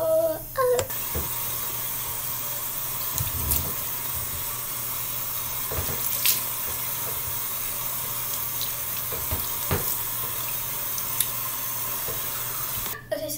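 Sink tap running while washing the face during a morning routine, a soft, steady hiss of water with a few faint knocks and splashes, starting and stopping at the edges.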